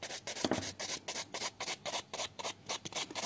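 A nail file smooths the surface and free edge of an acrylic gel nail with light pressure, about a dozen rhythmic back-and-forth rasping strokes, close and steady with no talking.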